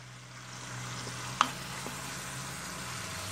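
Beef browning in a pan for beef bourguignon, a steady, low sizzle that continues throughout, with one brief clink near the middle and no voices.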